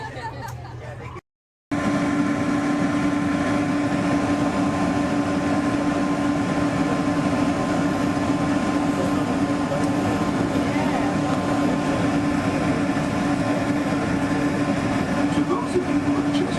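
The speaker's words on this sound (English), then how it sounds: "welcome aboard the Disneyland monorail" Steady rumble and hum of the Disneyland monorail while riding aboard, continuous and fairly loud after a brief cut near the start, with a constant tonal drone and speech faintly mixed in.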